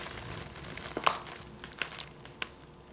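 Crinkly plastic rustling from a Disney Minnie Mouse gift bag being handled, a Dollar Tree Easter basket bag, with a few sharper crackles standing out among soft continuous crinkling, close by and fairly quiet.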